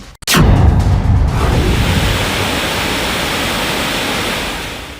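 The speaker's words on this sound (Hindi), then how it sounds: "बांध से गिरते इस पानी को देखिए" Water released from a dam roars down in a loud, steady, broadband rush that starts abruptly after a brief sound and holds without letup, with no talk.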